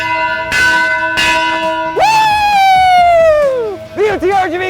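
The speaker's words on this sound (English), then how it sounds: "Ring that bell!" A bright bell rings twice for a coach's first win of the season on a university sports show, followed by a long ringing tone that decays, then quick reverberating strikes near the end, loud and close.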